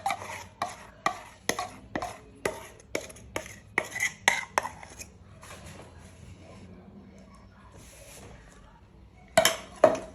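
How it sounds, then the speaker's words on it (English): A utensil clinks rhythmically against a bowl, a dozen quick metallic strokes stirring homemade condensed milk into an ice cream mix of milk and custard, then a pause and a final louder clatter. "So you have to mix until the condensed milk is well proper dissolved and nice"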